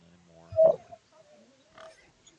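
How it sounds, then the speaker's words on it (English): A pig grunts in the video game Pathfinder: Wrath of the Righteous, one short, close snorting grunt followed by a softer, fainter second grunt, with quiet room tone between. "My dear pig, what did you say? You said grunz grunz in German?"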